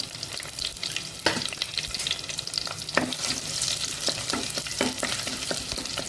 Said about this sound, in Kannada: ಈಗ ನಾನು ಜಿಂಜರ್ ಮತ್ತು ಗಾರ್ಲಿಕ್ಕನ್ನು ಮೊದಲು ಹಾಕ್ಕೊಳ್ತಿದ್ದೇನೆ. ಅದರೊಟ್ಟಿಗೆ ಕಾಯಿ ಮೆಣಸು ಸಹ ಹಾಕ್ಕೊಂಡು ಸ್ವಲ್ಪ ಸಾಟೆ ಮಾಡ್ತೇನೆ